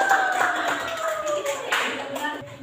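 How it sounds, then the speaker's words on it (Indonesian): Students in a maths classroom clap briefly for a presenting group, a light patter of hands with some voices mixed in beneath. "Tepuk tangan dulu untuk kelompok 3."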